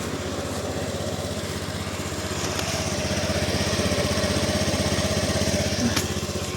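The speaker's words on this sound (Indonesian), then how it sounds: "mesinnya juga halus ya." A 2018 Honda Beat scooter engine with about 52,000 km runs steadily close by, a smooth, even buzzing idle that holds constant, with no talking over it.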